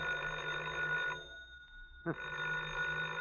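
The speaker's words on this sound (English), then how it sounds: "Oh, the phone again." An old-fashioned telephone bell rings in a 1948 radio drama, with a steady metallic ring that stops briefly and then starts again, heard alone at moderate volume.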